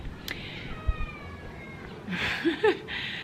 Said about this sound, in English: There's like 4 stray cats that just live around here permanently, and they fight all the time.